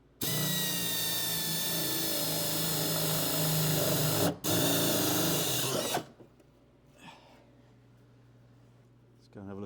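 A power drill whines loudly and steadily while boring holes in a 1971 Dodge Challenger, pausing briefly once before stopping; someone speaks quietly afterward as the drill restarts briefly at the end.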